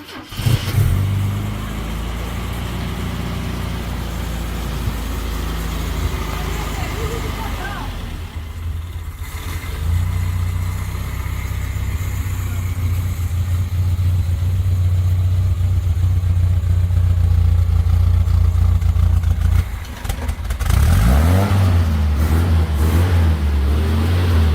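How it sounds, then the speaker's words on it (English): An Opel GT Sport with a freshly cleaned carburetor, starting after 20 years, runs loudly and close for the whole stretch, dipping briefly before settling into a steady idle, then surging in revs near the end. "The car started up fine."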